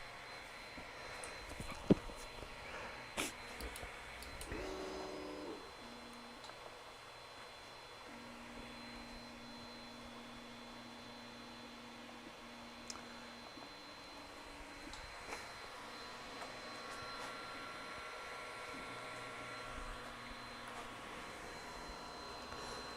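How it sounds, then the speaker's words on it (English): A Creality Ender 3 V2 Neo 3D printer lays down its prime line, its stepper motors whining in sustained tonal runs that shift pitch, over a soft fan hum, faint with a few small clicks. "the printer does its prime line first of all, just to make sure the nozzle's fully primed"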